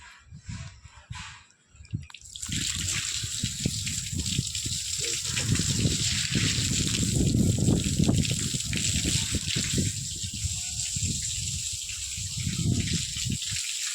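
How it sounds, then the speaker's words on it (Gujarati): Water gushes steadily from a hose onto fresh plaster for curing, a close continuous splashing and trickling that starts after a short quiet moment and runs without a break. "પ્લાસ્ટરનું પાણી ચાલુ કરી દીધું."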